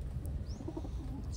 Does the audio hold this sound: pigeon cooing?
yes